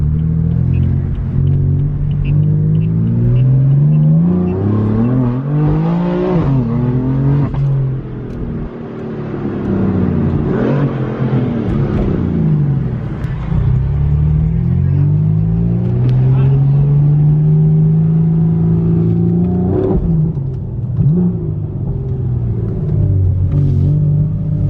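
A boosted Ford Mustang engine rumbles loud and close, revving and accelerating with rising and falling pitch sweeps through the run, while people talk over it inside the car.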